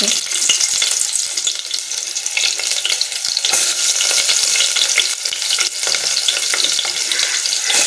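Onions and a bay leaf hit hot oil for bagara rice, giving a loud, dense, continuous hiss and sizzle with occasional stirring scrapes, close up.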